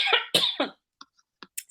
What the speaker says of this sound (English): as I cough my way into I don't know what